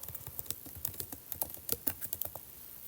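Typing on an iPad keyboard while coding in Swift Playgrounds: a quick, uneven run of soft, close key taps, steady through the clip and fairly quiet, with no talk.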